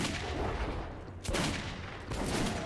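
A gunshot rings out in Metro 2033 on Ranger Mode, followed by a second sharp blast with a booming tail.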